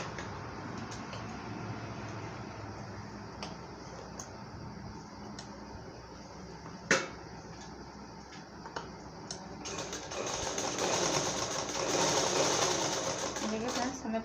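A sewing machine stitches a designer blouse with a steady, even ticking whir throughout, a sharp click near the middle and a busier, louder run of stitching toward the end, while someone talks over it.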